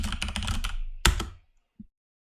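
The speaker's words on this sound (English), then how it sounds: "Type in your new project name." Rapid keystrokes on a computer keyboard in a quick burst, then one sharp louder key press, likely Enter, and a faint final click after a pause.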